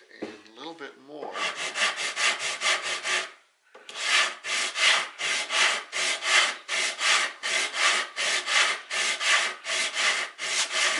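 A guitar fretboard being sanded to a radius with a sanding block makes rhythmic, loud back-and-forth rasping strokes, roughly two per second, with a brief pause partway through.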